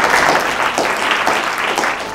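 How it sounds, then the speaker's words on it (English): An audience applauds steadily at an innovators event for a couple of seconds, dense clapping at an even level with no voices standing out. "Everyone give him a round of applause."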